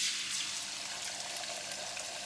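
Beaten eggs poured into a hot oiled pan after shrimp for stir-fried flat noodles give a steady, fairly quiet hiss and sizzle throughout, with no talk.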